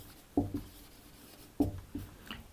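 A pen writes a word by hand on paper, producing two short bursts of scratchy strokes with a brief tap after each, quiet and close, separated by a pause.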